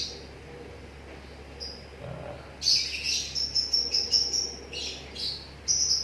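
A female fighter-type lovebird chirps in bursts of high, thin tweets and trills, close and fairly loud over a quiet background, with short pauses between the runs.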